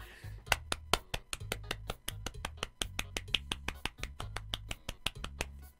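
Sharp, rapid percussive claps or snaps in a steady rhythmic pattern over a low thumping music beat, close and bright, with no talking.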